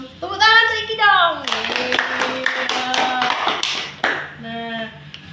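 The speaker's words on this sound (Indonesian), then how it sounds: "Tepuk tangan Kiki dong." During a children's read-aloud of a koala story, a burst of hand clapping rises in the middle, mixed with children's and an adult's voices that carry on over and around it.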